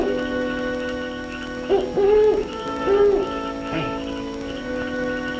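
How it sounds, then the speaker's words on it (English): A mockingbird calls in the 1944 film Timber Queen, giving a few repeated warbling, swooping notes at moderate loudness over steady sustained background tones. "It's a mockingbird."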